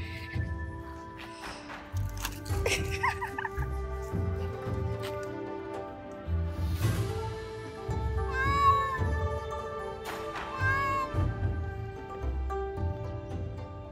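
A Maine Coon cat meows several times in clear, rising calls spread across an outdoor scene in Japan with deer nearby, with soft taps and rustling between the calls.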